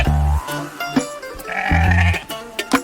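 Sheep kept for eco-grazing lawn maintenance bleat loudly and close by, several overlapping calls in quick succession, with no voices over them.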